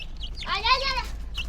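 A single chicken gives a short, rising-falling cluck, close and clear against a low background hum, with faint voices around it.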